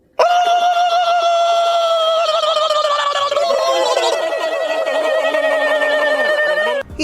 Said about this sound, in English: Victory screech!